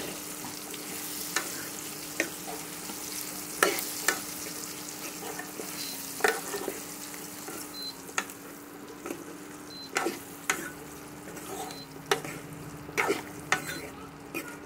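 Jackfruit seeds fry in oil for a curry while a spoon stirs them, with a soft, continuous sizzle. Scattered clacks of the utensil against the pan come at irregular intervals, and a faint steady hum sits underneath.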